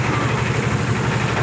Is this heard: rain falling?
no